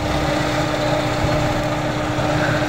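A carburetor car engine idling right after being started at a used car show in Karachi, a steady, close, continuous hum with no talk over it.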